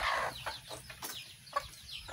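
Chickens being fed corn cluck and chatter close by in a short burst of overlapping calls, with a few sharper squawks standing out against a quiet farmyard background.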